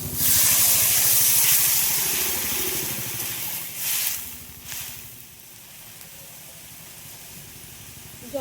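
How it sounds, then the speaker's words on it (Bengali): Water poured into a pan of frying taro and potatoes, starting with a loud rushing hiss and spray of steam that gradually dies down into a softer, fading sizzle with a couple of brief surges. "জলের পরিমাণটা একটু বেশি করে দিলাম, এগুলো সিদ্ধ হবে তো সব"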